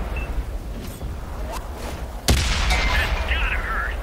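World of Tanks tank cannon fire: a sudden loud blast midway, preceded by distant thuds and followed by a lingering rumble and whooshing echo, with muffled background battle noise.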